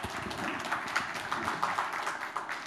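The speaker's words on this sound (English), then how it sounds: "I'm not sure why you're clapping." Audience clapping at a presentation, a steady dense patter of many hands at moderate distance, continuing evenly for a few seconds with no voices over it.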